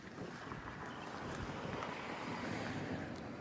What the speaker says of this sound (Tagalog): Lumakas na naman po ang hangin.